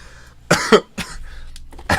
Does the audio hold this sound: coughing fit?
yes